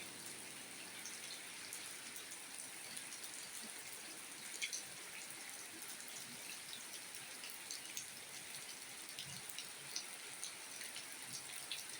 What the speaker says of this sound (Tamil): மழை வருது குடை கொண்டு வா.